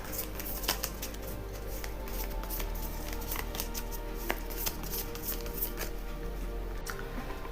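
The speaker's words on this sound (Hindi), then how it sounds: "let me shuffle the cards" Tarot cards being shuffled by hand, a quiet crisp riffling with soft clicks and flutters repeating steadily in a still room.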